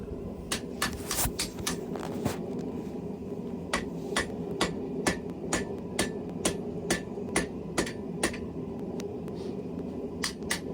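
Steel being drawn out on an anvil during Damascus forging, struck in a steady series of sharp, ringing hammer blows, louder and quicker at first, then evenly spaced, over a constant low workshop hum.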